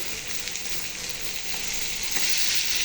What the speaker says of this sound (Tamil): இப்போ எறா போட்டுக்கலாம்